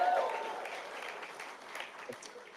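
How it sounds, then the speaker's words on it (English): Applause from an audience at a FIFA World Cup halftime show announcement event, a steady wash of clapping that starts fairly loud and gradually fades, with faint voices mixed in. "Another applause for that, right?"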